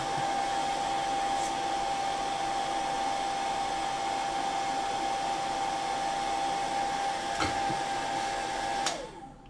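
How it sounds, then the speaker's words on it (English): A hair dryer blowing on painted miniature models, a steady loud whirring roar with a constant whine lasting about nine seconds before it is switched off and winds down, no voices. "Do you use a hairdryer to dry your models?"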